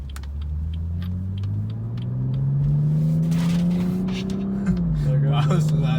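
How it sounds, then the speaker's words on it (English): 2016 BMW M235i pulls away, its exhaust note climbing steadily in pitch through a gear, dropping briefly at a shift, then carrying on. Someone speaks over the engine inside the car. "Listen to that exhaust"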